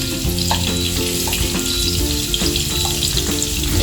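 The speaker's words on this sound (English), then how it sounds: "Then we will fry the rempah" Rempah chili paste frying in hot oil for chilli crab, a dense, steady sizzle and crackle close by, with faint clinks and stirring scrapes over the continuous hiss and no talking.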